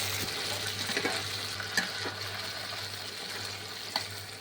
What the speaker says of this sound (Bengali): পেঁয়াজগুলোর সাথে আলুগুলো দিয়ে দিচ্ছি, এটা একসাথে ভাজা হবে।